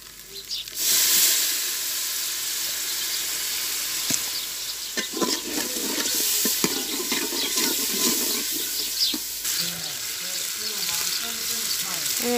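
Water poured into a pan of frying chicken liver and gizzards in a home kitchen, a steady loud sizzle and hiss with stirring scrapes that continues on its own, fading as the pan settles near the end.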